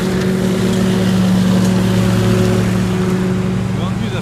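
A Stihl BR800 backpack leaf blower runs steadily and loudly throughout, a continuous engine drone with a strong low hum, used for spring cleanup along a fence line.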